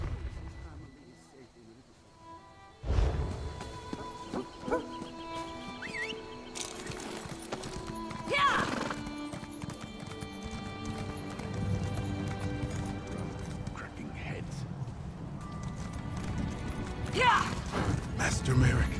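Clip-clop of horse hooves with an occasional whinny from the video game Elder Scrolls Online, heard among game sounds and a voice, steady trotting rhythm through most of the stretch after a quiet start.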